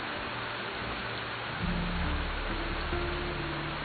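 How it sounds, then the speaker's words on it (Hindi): Steady rain falls with a broad hiss, and a deep low thunder rumble rolls in about halfway through and persists to the end, with no voices. "बारिश कब रुकेगी?"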